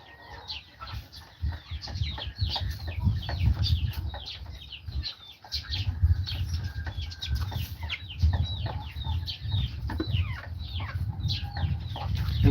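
Young, not yet full-grown chickens on a farm clucking and chirping continuously in a busy, close flock, with occasional wing flaps and no talking.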